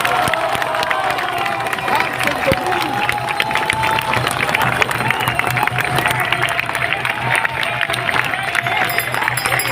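An outdoor crowd at a political rally outside Mexico's electoral institute applauds and cheers, with continuous clapping, shouts and whistles blending into loud hubbub throughout.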